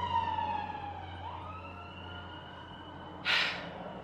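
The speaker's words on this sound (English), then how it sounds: "this is the second time an ambulance or police car drove past my house" An ambulance or police car siren wails as the vehicle drives past a house, its falling tone sweeping steadily and fading with distance, with a brief breathy noise near the end.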